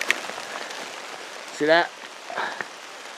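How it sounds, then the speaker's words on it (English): Steady rain patters on the surroundings in the Jessup River wilderness, a soft, even hiss running throughout while someone speaks briefly in the middle. "here comes the rain again"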